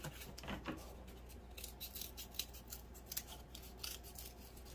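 Scissors snipping through a piece of cardboard, trimming it down to size while making a craft gnome, with a run of close, moderately loud crisp cuts and rasping blade strokes in a quiet room.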